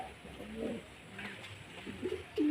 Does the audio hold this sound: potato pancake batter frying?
no